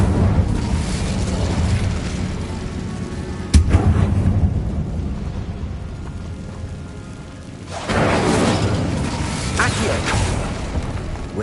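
Incendio fire spell cast in a Harry Potter video game: a sudden whooshing burst of flame over rumbling game ambience, with a second roaring surge later, loud and close.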